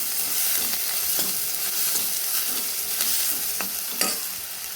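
Onions, curry leaves, coriander and green chillies fry in a pan for paneer bhurji, a continuous bright sizzle punctuated by repeated scraping stirs of a spatula, close and clear with no talking.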